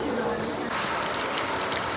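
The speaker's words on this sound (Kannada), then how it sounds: "ನೋಡ್ರಿ ಮಳೆ ಚಾಲೋ ಆಯಿತು" Rain pours steadily over the hillside Kukke Subramanya temple grounds, a dense, even hiss with no pauses through the short stretch.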